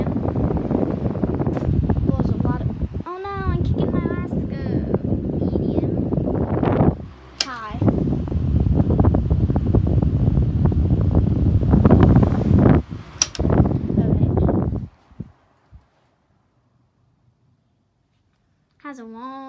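An old electric fan found in the trash, fitted with heavy plastic blades, runs with a steady whooshing airflow hum under close, ongoing speech. Near the end it is switched off and goes quiet.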